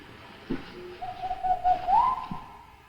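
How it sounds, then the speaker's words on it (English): A faint, thin whistle rises gently and holds for about a second and a half in a quiet room, with a couple of soft knocks around it. "Did you hear a whistle"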